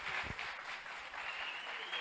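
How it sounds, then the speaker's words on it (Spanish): Congregation at a church service applauds, a soft, steady patter of many hands clapping at a distance, fairly faint throughout. "Vamos aplaudir ao Senhor pela vida deles."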